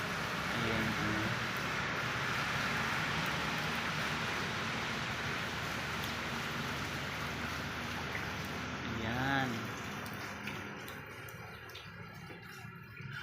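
Heavy rain falls steadily as a dense, continuous hiss during a morning ride, loud and close throughout, with a brief vehicle or voice swell near the end.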